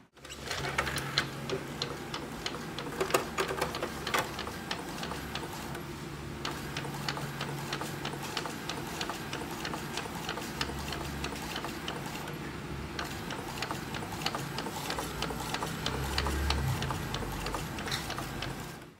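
An Epson L120 pigment printer feeds 220gsm calling card paper, whirring and ratcheting close by in a steady mechanical rhythm that clicks continuously for the whole stretch.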